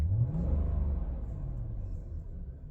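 Lexus LS400 sedan engine revving under throttle on premium unleaded fuel, a close, steady low rumble that swells slightly and holds for a few seconds with no talking.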